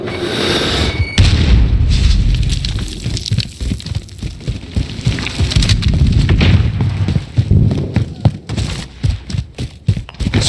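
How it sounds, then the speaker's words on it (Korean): A grenade detonates in the Call of Duty Modern Warfare video game, a heavy boom followed by a run of further bangs and rumbling battle noise that fades and flares unevenly. "수류탄!"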